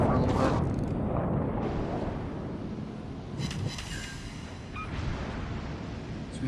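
Battleship main guns firing shells in a naval game, the Scharnhorst engaging the California: a loud booming salvo at the start, rumbling low roar sustained throughout, with a couple of sharper reports later.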